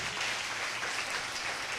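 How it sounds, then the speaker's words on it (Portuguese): A church congregation applauds during a worship service, dense steady clapping filling the room at a moderate level with no voices heard. "Dê uma salva de palmas para o Senhor."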